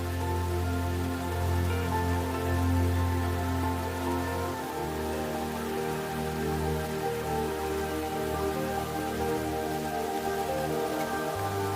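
Steady rain falls where a lion pride rests, making a continuous soft hiss of drops with a low ambient hum underneath. No voices are heard.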